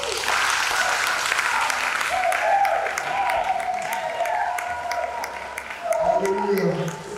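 Church congregation at a wedding service applauding to cheer the women, steady sustained clapping from a large crowd with voices and a sung melody rising beneath it.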